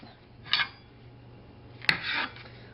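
Knife slicing through a sandwich on a cutting board, two short rasping strokes a second or so apart, the second starting with a sharp tap, close and fairly quiet.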